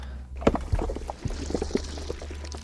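Game debris sound effect being mixed: scattered rattling and crumbling impacts over a steady low rumble, with a few sharper hits standing out, moderately loud and without any talking.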